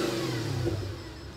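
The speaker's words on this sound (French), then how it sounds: "le son de la RS4. Mets-toi la pistache, fermé." Audi RS4 engine revving steadily with its exhaust valves closed, a muffled, continuous mid-pitched drone held at an even level throughout, no talking.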